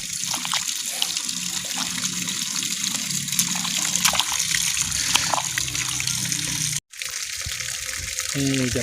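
Wild mushrooms being washed in water, a continuous trickling and splashing with small bursts and swirls, near and moderately loud, with a brief drop-out and a short tonal sound at the end.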